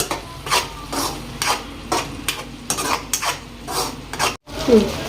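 Tomato paste being stirred into a cooking pan for restaurant-style chana masala, with repeated scraping and clinking strokes of a utensil against the pan at a steady rhythm, close up, with a brief pause near the end.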